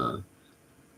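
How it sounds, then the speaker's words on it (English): One short, throaty burp right at the start, loud and close, fading into quiet room noise in the morning. "My body's burping and stuff"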